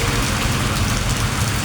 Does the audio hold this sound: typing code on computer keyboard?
no